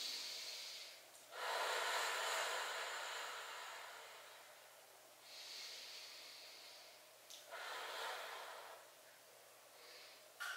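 Slow, deep breaths during a pelvic floor core exercise, long airy exhalations and inhalations repeating in a steady rhythm, close and fairly soft, with no talking.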